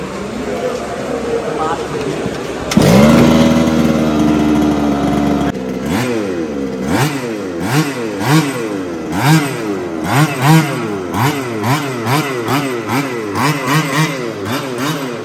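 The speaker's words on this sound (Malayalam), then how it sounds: "നമുക്ക് പെട്രോൾ എഞ്ചിൻ സ്റ്റാർട്ട് ചെയ്യാം" A petrol-engined RC car at a Kerala RC show starts with a sharp buzzing whine, then revs repeatedly in rising and falling bursts, loud and close, with people talking throughout.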